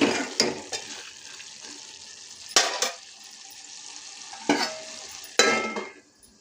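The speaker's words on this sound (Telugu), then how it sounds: "మధ్య మధ్యలో కలియబెడుతూ ఉండాలండి లేకపోతే అడుగు అంటుతుంది" Ridge gourd curry stirred in a pan, several scraping spoon strokes against the metal with a faint sizzle beneath, close and intermittent.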